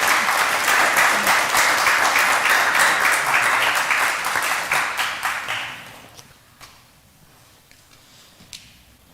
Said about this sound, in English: Let's have one more round of applause for Debbie and Elaine.